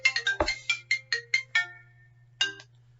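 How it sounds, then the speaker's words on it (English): A mobile phone ringtone plays a rapid melodic sequence of bright electronic tones, with a steady low hum underneath, a short pause, then one more burst of tones; no voices are heard. "Sorry that my phone was on"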